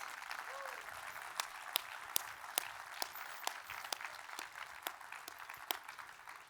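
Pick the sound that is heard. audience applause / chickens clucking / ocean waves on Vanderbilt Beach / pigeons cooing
audience applause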